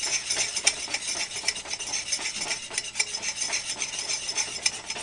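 A spoon scrapes and stirs butter and flour together into a thick paste in a pan, with quick, uneven clinking and scraping strokes and a faint sizzle, close by with no talk.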